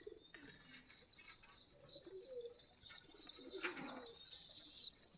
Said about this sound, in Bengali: আমাদের সম্পূর্ণ দেশি গিরিবাজ কবুতর।